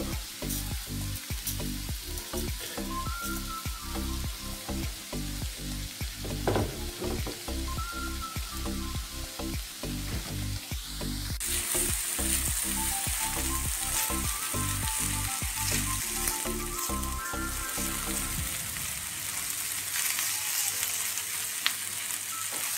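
Rice sizzles steadily in a hot pan for seafood paella while being stirred, with repeated scraping strokes over a continuous close frying hiss that grows brighter partway through.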